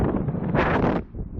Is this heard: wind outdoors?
yes